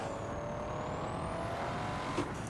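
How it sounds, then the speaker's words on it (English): Drag racing video game car holding rolling anti-lag at about 50 mph, a steady buzzing engine drone with a continuous high whine and faint popping, constant and fairly loud throughout. "You do have rolling anti-lag, so I'll show you that."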